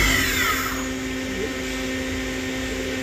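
A PolyGim Diamond 42CSL CNC Swiss hybrid lathe spindle spins at about 3,000 RPM, heard from roughly five inches away as a steady, close whirring hum with a constant tone and faint high whine.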